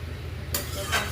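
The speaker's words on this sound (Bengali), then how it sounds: "জল দিয়ে ভালো করে নেড়ে চাপা দিয়ে দিচ্ছি।" A spoon stirs poppy seed curry in a pot after water has been added, giving a low continuous bubbling hum with a brief scraping swish partway through and another near the end, close by with no talk.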